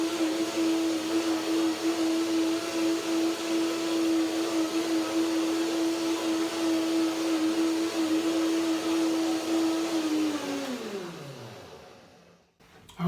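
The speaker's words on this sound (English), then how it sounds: "One more blender dance." A blender whirs steadily while blending a cashew cream dressing, holding a loud, even motor tone for about ten seconds before winding down to a stop.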